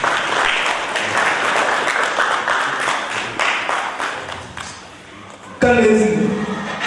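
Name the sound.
applause at an award ceremony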